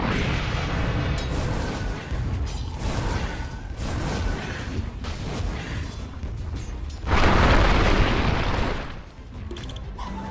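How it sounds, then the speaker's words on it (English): Booming impacts and whooshing blasts from an attack on a tower in Dota 2, a steady run of thuds and crashes with a louder heavy burst near the end. "Radiant's middle tower is under attack."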